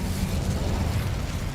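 Incendio fire spell cast in the Hogwarts Legacy video game, a dense, steady rush of low rumbling flame noise with a crackling edge, lasting throughout at even loudness.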